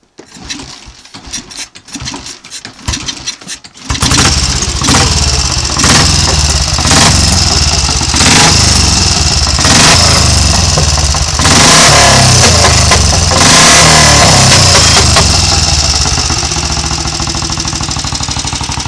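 A Royal Enfield 350 cafe racer motorcycle cranks over a few times, then its single-cylinder engine fires and runs loud and close, revving up and down in steady bursts with a rapid thumping beat.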